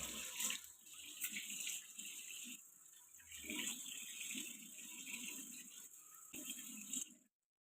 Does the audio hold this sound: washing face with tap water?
yes